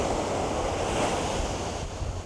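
East Sea waves break on a white sandy beach near Wolsongjeong pavilion, a continuous close, loud wash of surf with wind rushing across the microphone and no voices.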